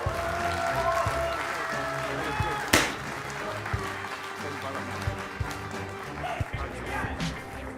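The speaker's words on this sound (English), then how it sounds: "Ladies and gentlemen, a round of applause," An audience at a Clash Royale tournament grand final in Helsinki applauds as Alexander from Supercell comes on stage, with scattered clapping mixed into crowd murmur and a sharp thump partway through.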